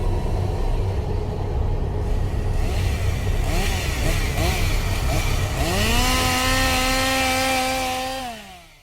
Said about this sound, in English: This is a chainsaw-wielding maniac